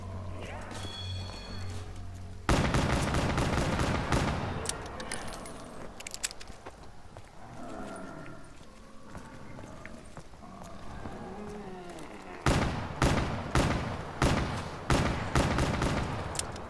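Gunfire crackles in Call of Duty: Black Ops III, with sharp rapid bursts of shots at the start and end of the clip and quieter game sounds and voices between them.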